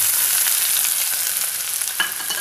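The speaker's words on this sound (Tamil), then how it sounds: "வெங்காயம் ஃப்ரை ஆகிட்டுருக்கட்டும்." Cumin seeds and chopped onion fry in hot oil in a pan, giving a steady close crackling sizzle with small pops, no voices over it.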